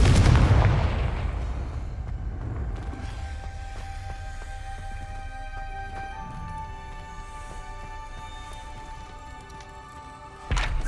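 A Confringo spell blast in Hogwarts Legacy: a loud, booming fiery explosion opens and slowly decays over several seconds beneath sustained game music tones, with another sharp burst right at the end.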